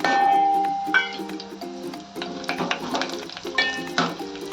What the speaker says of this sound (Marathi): मोहरी वगैरे तडतडते हे बघा.